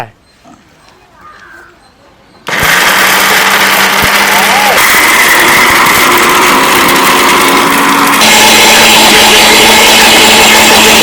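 An electric grinder starts abruptly and runs loud and steady, grinding soaked cotton seeds with water into cotton milk, its whining motor droning for several seconds with a slight rise in pitch near the end; a voice speaks briefly before it starts.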